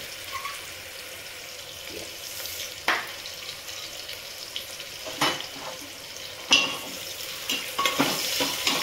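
Onions fry in a pan for masala pulao, a soft steady sizzle broken by a few sharp scrapes and clatters of stirring, fairly quiet and with no voices.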